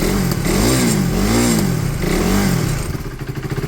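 A KTM motorcycle on its original exhaust revs up and down in a few rising and falling sweeps, loud and close, then settles into a lumpy idle near the end; no talking.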